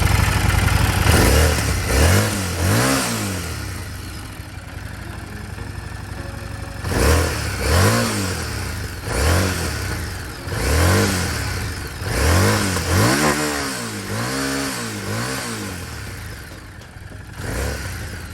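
A Harley-Davidson Street Rod 750 motorcycle engine started, then revved repeatedly in short bursts, rising and falling, loud and close, idling rough between revs.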